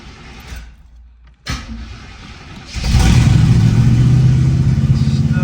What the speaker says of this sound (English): I gotta start the car.